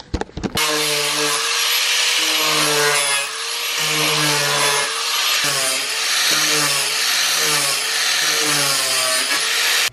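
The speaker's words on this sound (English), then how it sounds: "I really need to start learning to not film when I cut fiberglass" A power tool cuts loudly through a fiberglass car bumper on a drift car, a continuous harsh grinding whine with a shifting pitch that runs close and steady throughout, with no talk over it.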